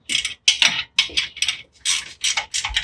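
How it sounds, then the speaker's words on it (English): A ratchet clicks in short repeated bursts while loosening the 18 mm caliper bolts on a Jeep Gladiator during a lift install, with about seven quick rhythmic strokes close by and no talking. "So I'm gonna go ahead and remove the caliper now. You can see these two bolts right here, 18 millimeter bolts."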